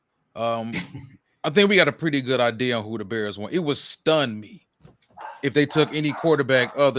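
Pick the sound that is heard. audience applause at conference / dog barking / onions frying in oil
dog barking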